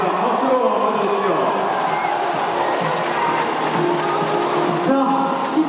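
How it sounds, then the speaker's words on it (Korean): A basketball arena crowd at a Samsung Thunders game in Jamsil keeps up continuous applause and cheering while someone talks loudly over it. "박수로 받아주시죠."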